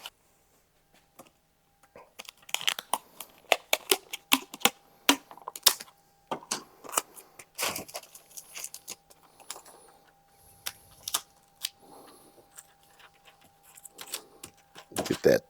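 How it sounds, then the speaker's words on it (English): Masking tape being torn and pressed onto parchment paper wrapped around a wooden cutting board, a string of sharp, irregular rips and taps at close range, with short pauses between bursts. "we'll go ahead and tape it in place"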